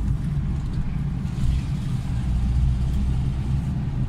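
Rear-mounted engine of a Lada 21011 car accelerating on the road, a steady low rumble with a slight swell midway, heard from inside the car with no speech over it.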